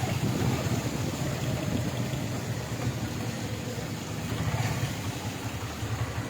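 Heavy rain and strong gusting wind during a drive through flooding streets, a constant loud rumbling roar of engine, water and wind with no talking.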